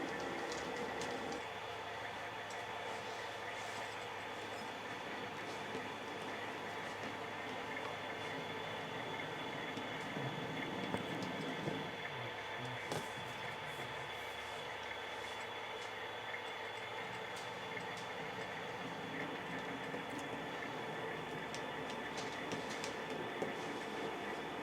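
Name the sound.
model railroad train switching cars in yard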